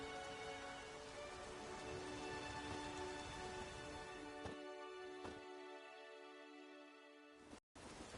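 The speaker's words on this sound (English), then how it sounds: "There's no point standing here in the rain." Steady rain in the video game The Witcher 3 hisses as an even, continuous wash, with a low hum underneath that drops away near the end before a brief cut to silence.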